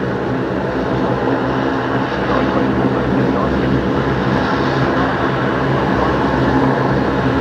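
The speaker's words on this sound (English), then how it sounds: "The 747-400 freighter of Atlas Air operating for and on behalf of Qantas, of course." An Atlas Air Boeing 747-400 freighter arriving at Brisbane Airport, its engines a loud, sustained rumbling roar that holds steady from start to finish without speech.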